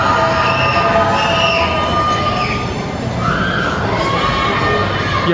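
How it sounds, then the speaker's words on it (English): Roller coaster running on a track that passes inside the New York New York hotel in Las Vegas, a steady rumbling train-like roar with squealing wheels, loud and continuous under a busy crowd hubbub. "There is a roller coaster ride that also passes through inside"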